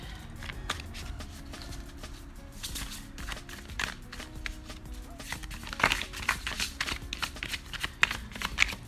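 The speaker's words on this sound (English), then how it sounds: "I'm going to reshuffle." Playing cards are shuffled in quick riffling bursts, close and fairly quiet, repeating several times.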